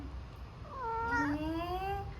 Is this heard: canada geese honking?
no